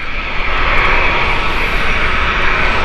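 British Airways Boeing 777 jet taking off at Gatwick Airport, a loud sustained roaring engine rumble with broad hiss, steady and powerful throughout.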